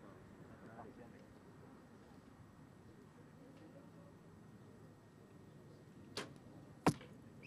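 Compound bow arrows striking a target at a women's bronze-medal archery match, two sharp impacts near the end over a quiet, low murmur of ambient crowd and commentary.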